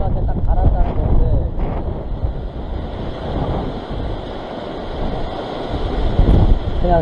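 Strong wind gusts roar across a microphone at rocky seaside cliffs while waves wash below, a continuous blustery rumble; a voice is heard briefly through it.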